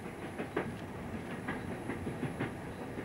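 A train rolls along a quiet Somerset branch line with a steady rumble and soft rhythmic clicks from the rails, heard at a moderate distance with no voices.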